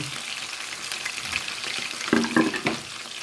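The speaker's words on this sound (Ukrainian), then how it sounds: "сюди викидаю цибульку, додаю, щоб підсмажилася для аромату і смаку" Chopped onions tossed into a hot pan with oil, giving a steady sizzle that rises into a few louder crackling bursts as they hit the fat, with a quiet voice faintly present.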